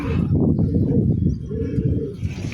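Racing pigeons in a loft at San Miguel, Bulacan, coo in low, throaty, overlapping rolls close by after one bird returns, with a soft rustle behind.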